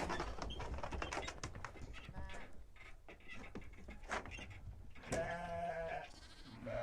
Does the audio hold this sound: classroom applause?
no